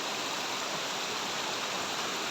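Waterfall in a forest camping spot: a continuous, even rush of falling water with no breaks, moderately faint and steady, with no voices over it.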